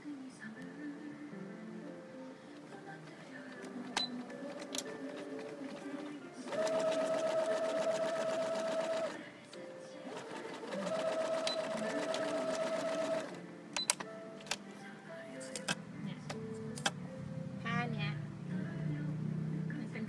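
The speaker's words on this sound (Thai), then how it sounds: "เย็บไปเลย" A sewing machine stitches PVC-coated fabric for a Blythe doll jacket, with two sustained runs of steady mechanical whirring close to the microphone and a pause between them, and someone speaking softly around the stitching.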